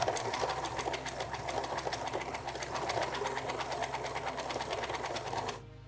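Sewing machine stitching on a patchwork project, a steady rapid mechanical chatter of the needle running continuously at close range for several seconds before stopping.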